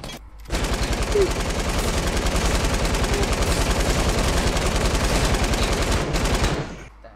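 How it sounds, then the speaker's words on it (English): Rapid automatic gunfire in the video game Fortnite Battle Royale, a loud, continuous burst of closely spaced shots lasting several seconds. "His gun's shooting at the wall."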